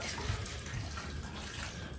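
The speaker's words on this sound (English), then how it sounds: "I'm going to hit about 1 cup of vinegar" About a cup of vinegar poured over chopped peppers in a pot for homemade red hot sauce, a steady close liquid splash and gurgle running without a break, no talk.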